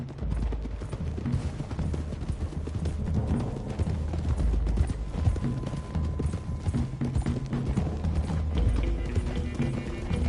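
Horses gallop along a hill road in Red Dead Redemption 2, hooves clopping in a quick steady rhythm under a continuous bed of game sound for about ten seconds.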